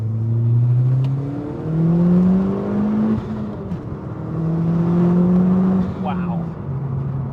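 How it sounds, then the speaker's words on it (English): Car accelerating hard on a short drive, engine note climbing through gears in rising sweeps with brief dips at each shift, heard from inside the cabin with a voice speaking over it. "let's go for a little squirt, shall we? This thing picks up so well."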